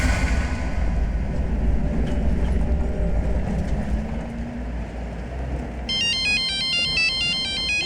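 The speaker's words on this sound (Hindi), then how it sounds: "रुको पापा, मैं आपको फोन उठा के देती हूँ।" A loud rumbling, rattling background gives way to an electronic phone ringtone chiming in a repeating melodic pattern near the end.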